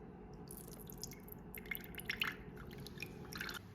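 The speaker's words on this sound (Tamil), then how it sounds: "இதில் இருக்கிற ஜூஸை வந்து நம்ம வடிகட்டி வைக்க போகிறோம்." Juice from dry fruits soaked in grape juice is strained off for a plum cake, giving soft, steady drips and trickles of liquid over a low background hum.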